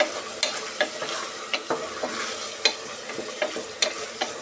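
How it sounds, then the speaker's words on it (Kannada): Beans and tomato frying in oil in a pan while a spoon stirs them: a continuous close sizzle broken by sharp scraping clacks of the spoon at irregular intervals, no talking. "ಆಯಿಲಲ್ಲಿ ಸ್ವಲ್ಪ ಇದನ್ನು ಚೆನ್ನಾಗಿ ಫ್ರೈ ಮಾಡ್ಕೊಬೇಕು"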